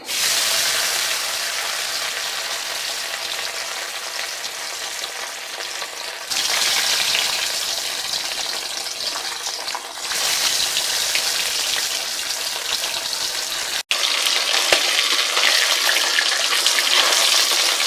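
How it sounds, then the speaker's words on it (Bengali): Fish fried one piece at a time in hot oil, for a home-style curry alongside lady's finger (okra), sizzle steadily and loudly for the whole stretch with no voice, swelling in bursts as pieces go in, with a brief cut near the end. "তো তেলটা গরম হয়ে গেছে, আমরা এখন মাছগুলিকে এক এক করে ভেজে নেব"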